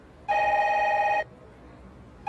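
A telephone bell rings loudly in one sustained burst of about a second, then stops, with the next ring just starting at the end.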